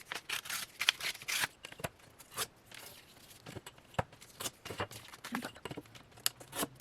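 Scissors snip through paper while recipe book dividers are being cut out, a quick irregular run of crisp close-up cuts and rustles with short pauses between.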